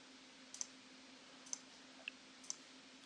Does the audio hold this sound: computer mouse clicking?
yes